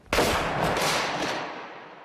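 A Civil War breech-loading rifled cannon fires with one sharp, loud blast that rolls out into a long, slowly fading boom, with no voices over it.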